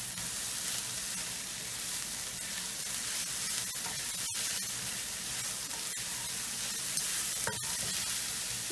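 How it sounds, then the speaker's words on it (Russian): Seasoning and vegetables are stirred into borscht, giving a quiet, steady sizzle with occasional scraping clicks from the spoon and no talk. "Мы это все дело тщательно перемешиваем."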